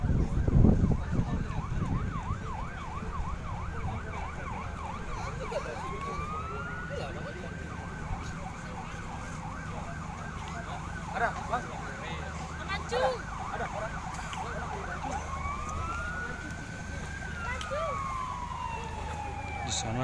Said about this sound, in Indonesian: berbunyi sirine dari kepolisian yang mengawal Bupati Bener Meriah.